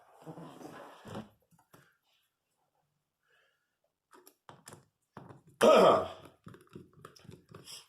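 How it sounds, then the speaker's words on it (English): A few scattered throaty noises and a harsh, loud throat clearing near the middle, with quiet gaps and short rough sounds around it. "I'm just clearing my throat so I can make this video."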